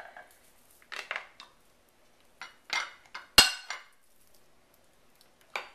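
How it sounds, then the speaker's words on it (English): Drained macaroni for a Greek pastitsio spooned into a casserole dish, with sparse metal-on-dish scrapes and clinks, including one sharp close clink midway, in an otherwise quiet kitchen. "the first step is to put half of our macaroni in the bottom of our dish"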